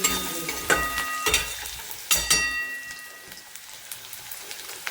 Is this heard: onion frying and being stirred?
yes